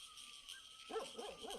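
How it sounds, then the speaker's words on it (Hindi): A dog barks faintly in the distance at a hill home, a short series of repeated yips over a quiet outdoor background. "हमारा कालू भी भौंकने लग चुका है।"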